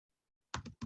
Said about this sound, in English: just start typing in